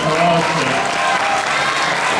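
Applause from the audience at a university club's annual performance closing, a dense, loud wash of clapping that runs steadily throughout, with faint speech underneath.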